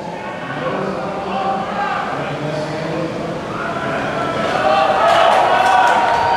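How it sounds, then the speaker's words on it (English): A packed arena crowd at a professional wrestling heavyweight tournament final cheers in a dense, continuous roar of mixed voices that holds steady, then swells louder and brighter over the last couple of seconds. "Absolutely deafening as fans are cheering for both of these challengers"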